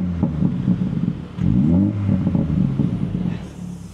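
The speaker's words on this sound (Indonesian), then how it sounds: "Ada crackle-crackle-nya ya yang membuat adrenalin kita tuh semakin terpacu pakai mobil" Mini Cooper JCW engine revving with exhaust crackles, a loud close burst of rising engine roar midway between rougher idle rumbling and popping.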